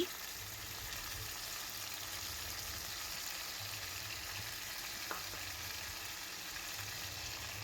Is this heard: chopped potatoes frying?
yes